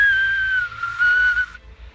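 A soft, thin fingerless lip whistle from a beginner, one steady breathy tone held for about a second and a half, close and alone, slightly wavering before it cuts off.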